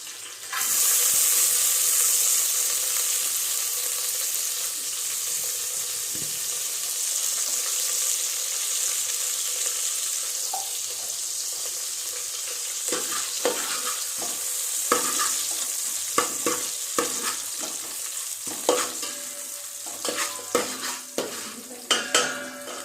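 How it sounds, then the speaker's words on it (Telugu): Soaked cinnamon, cloves and cardamom fry in ghee for a prawn biryani, a steady close sizzle that later breaks into clattering stirring knocks near the end. "రెండు గరిటెలు నెయ్యి వేసుకుని దీంట్లో మన నానబెట్టుకున్న చెక్క లవంగా యాలక్కాయ అన్నీ కూడా వేయించేసుకోవాలి"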